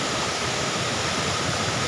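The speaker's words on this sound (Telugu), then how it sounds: "ఇక్కడైతే నీళ్లు జారుతున్నాయి" Water rushes over rocks along a forest trail, a steady, close, even wash of noise with no breaks and no voices.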